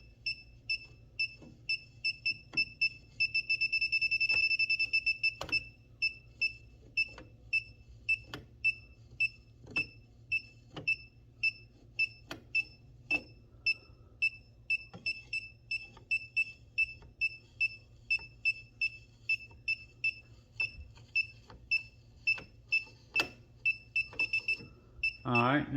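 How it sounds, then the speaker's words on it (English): An outlet tester checking a GFCI outlet that will not reset gives a regular series of short, high, two-tone beeps close by, with one longer sustained tone early on and scattered clicks under a low hum. "Just ignore the beeping on the first pass, because it's not going to be correct."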